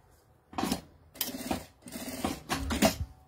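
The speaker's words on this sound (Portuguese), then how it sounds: "Fiz a costura, o viés ficou soltando aqui. Eu vou costurar de novo." A sewing machine runs in four short bursts as it stitches bias binding along a zipper edge of a small fabric pouch, each burst a close, rattling whir separated by brief pauses.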